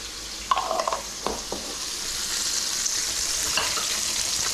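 Chicken deep-frying in hot oil in a wok gives a steady close sizzle and hiss, with a few brief clinks and splashes early on and no talk.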